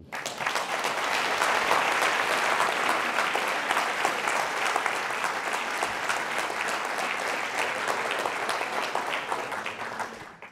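A lecture audience on climate change applauds after a talk, dense even clapping that holds steady for about ten seconds before tapering off at the close.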